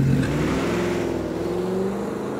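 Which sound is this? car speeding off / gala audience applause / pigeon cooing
car speeding off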